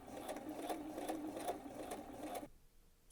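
A sewing machine runs a long temporary basting stitch in contrasting thread on lace dress fabric, with a steady close whir and rapid needle pulses that stop abruptly before the end.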